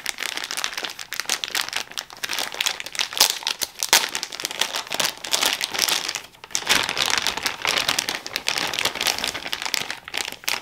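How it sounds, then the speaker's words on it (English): Thick plastic bag crinkling steadily close up while an MXR Analog Chorus guitar pedal is unboxed, a dense continuous rustle with brief pauses, no talking. "Nice thick plastic bag."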